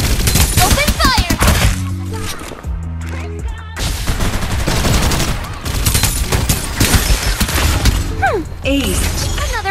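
Rapid gunfire and explosive impacts from a Farlight 84 battle royale match, loud and dense throughout, with a tonal game music bed underneath and no clear voices.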